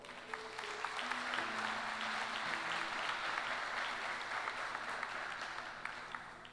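A church congregation applauds steadily throughout, a dense wash of many hands clapping at a constant level, with no speech over it.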